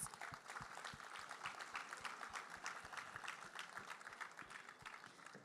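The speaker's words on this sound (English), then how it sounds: "A big applause for their efforts." Applause from an audience at a senior awards ceremony, a steady wash of many hands clapping at once that holds evenly for a few seconds.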